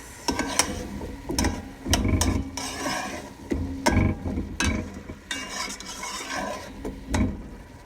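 A beef bone broth mixture being stirred in a pot, with irregular scraping and clinking strokes close by, recurring every half second or so, no voices.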